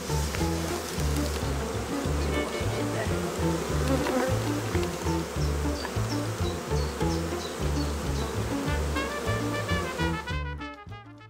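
A swarm of honey bees hums loudly and steadily up close, a dense continuous buzz with pulsing wingbeat tones that keeps going before dropping away at the very end.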